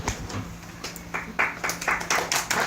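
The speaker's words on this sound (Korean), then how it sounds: "박수 쳐주세요." Audience applause at a church gathering after a sermon, a scattered clapping that builds into fuller, closer bursts over a couple of seconds with no voices on top.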